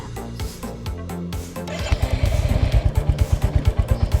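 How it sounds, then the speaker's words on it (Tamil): A Bullet motorcycle engine in a video game fires up after some clattering, then settles into a loud, steady thumping idle with evenly spaced deep pulses. "நம்ம ஊர் புல்லட் ஸ்டார்ட் ஆகுதா அதே சவுண்ட் வச்சுருக்கானுங்க"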